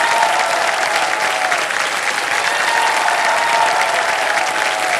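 A studio audience on the KBC quiz show claps loudly and steadily, a thick continuous wash of applause that holds at even strength from start to finish.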